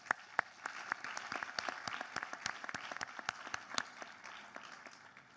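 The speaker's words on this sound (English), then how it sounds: "Please join me in giving them a big round of applause" Audience applause for a conference panel at a digital innovation for development event, steady scattered clapping with sharp individual claps throughout, moderately distant and fairly quiet, no talk.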